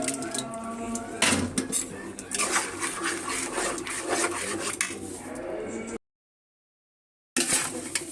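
Mung dal clatters into a metal cooking pot, bright scraping and rattling against the pan with a few sharp knocks, continuous for several seconds before a brief dropout and a final clink.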